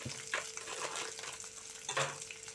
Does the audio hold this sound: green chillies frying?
yes